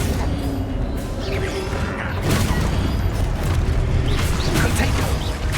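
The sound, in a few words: Explosive spells cast in video game Hogwarts Legacy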